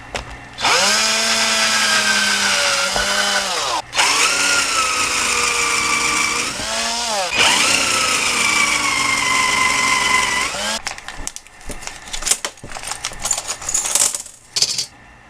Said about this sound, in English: So I'm just going to go ahead and pre-drill these.